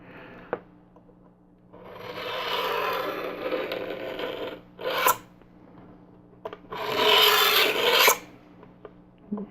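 A chisel scrapes a groove along a ruler into a model part in two long, close rasping strokes separated by pauses, with small clicks and taps between them.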